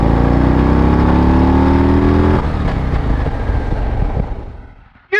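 A motorcycle engine revs hard under a fistful of throttle, its rising roar climbing in pitch for a couple of seconds before easing off and fading into quieter running, loud and close, with no voices.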